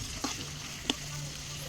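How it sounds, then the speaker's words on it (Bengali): Vegetable stalks frying in a pan, a soft steady sizzle with two brief scrapes of stirring, fairly faint and heard alone. "ডাঁটাগুলো আমি একটু নাড়া দিয়ে নিচ্ছি"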